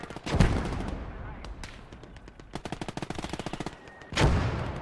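Gunfire from a squad of infantry in a 3v3 battle in Gates of Hell: Ostfront: heavy opening blasts, a scatter of single shots, then a rapid burst of automatic fire and another loud volley close by.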